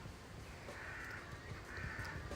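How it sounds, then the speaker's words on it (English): Crows caw a few times in the distance over a steady, noisy outdoor background. "I could lay here, just listen to the birds as well."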